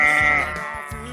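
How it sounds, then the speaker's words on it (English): A sheep gives a single loud, wavering bleat up close, heard alone without any voices. "It's a sheep."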